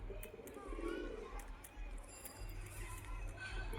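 Low, soft cooing of pigeons repeating under a steady background hum, fairly close, with faint voices nearby.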